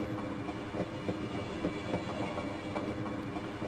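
A tram rides along its track in the video game Half-Life, giving a steady, close rolling rumble with faint rhythmic clacks of wheels over rail joints that continues without a break.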